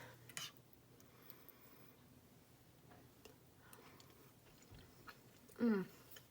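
Someone chews a spoonful of homemade sloppy joe while tasting it, with quiet, irregular mouth sounds close to the mic and one louder smack near the end, no speech.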